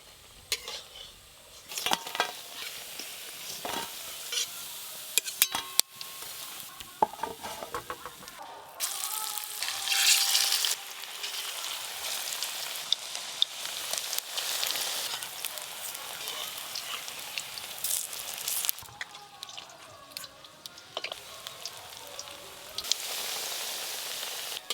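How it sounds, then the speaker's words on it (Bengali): Oil sizzles and crackles steadily as poppy seed fritters fry, with scraping stirring and clinks of a utensil throughout; no talking. "পোস্তর বড়াগুলো ভাজা হয়ে গেল, আর একবার ভাজা করতে হবে।"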